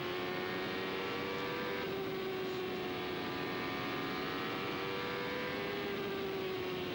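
A 1994 IndyCar race car engine roars steadily from onboard at the Nazareth oval, a loud continuous drone with a high sustained pitch and no talking.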